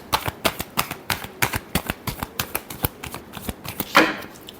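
A deck of tarot cards shuffled by hand, a rapid, even series of crisp papery slaps and flutters with a fuller riffle near the end, close and clear with no voices.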